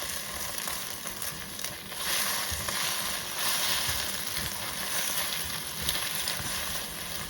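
Eggs for pad thai sizzle steadily in a pan at high temperature, a close, dense hiss with small crackles that swells slightly now and then, with no talking.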